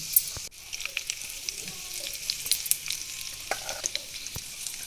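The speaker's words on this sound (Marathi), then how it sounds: "जिरे मोहरीची फोडणी दिल्यानंतर आपण त्यामध्येच कढीपत्ता घालणार आहोत" Hot oil sizzling steadily with sharp crackles and pops as cumin and mustard seeds and curry leaves spit in the pan, close and continuous, with a brief stir near the start.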